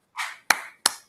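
Three slow, separate hand claps, sharp and fairly quiet, each spaced about a third of a second apart, with no talk over them.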